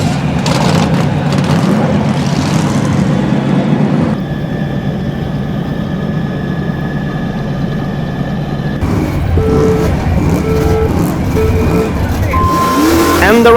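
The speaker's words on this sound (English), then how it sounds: "engines revving." Small RC tank motors whine and buzz continuously at a tank biathlon starting line, loud and close, changing pitch as they rev, with tonal whirring near the end.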